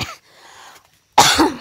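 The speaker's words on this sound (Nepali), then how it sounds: "सरी एकदमै खोकी लागिरहेको छ" A person coughs: one short cough at the start, then a louder, harsher burst near the end, with a quiet lull between and no talking.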